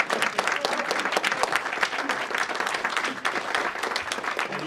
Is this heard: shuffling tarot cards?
no